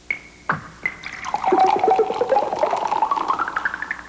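Synthesized effect imitating Coca-Cola being poured into a glass, made by synthesist Suzanne Ciani for a commercial: a couple of sharp opening plinks, then a loud, continuous bubbly gurgling fizz with rising tone, heard alone.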